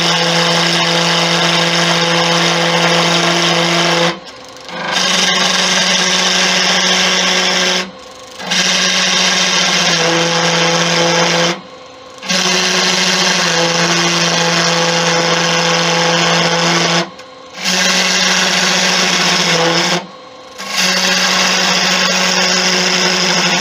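A wood lathe spins a wooden Venus figurine while a skew chisel cuts it, giving a loud sustained humming whine broken by five short pauses where the machine drops out.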